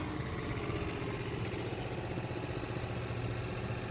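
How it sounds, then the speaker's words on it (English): A car engine idles steadily with a persistent rough, rattling mechanical noise mixed into its low hum, continuous and even throughout. "If you have any idea what might be causing this engine noise"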